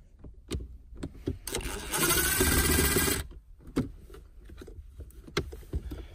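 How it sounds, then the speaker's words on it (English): A power driver with a Phillips bit whirs loudly for about a second and a half, backing out screws from the interior trim of a Subaru Crosstrek, flanked by sharp ratchety clicks and taps before and after. "We're going to go ahead and start unscrewing these screws right here."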